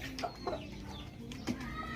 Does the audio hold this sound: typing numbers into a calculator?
no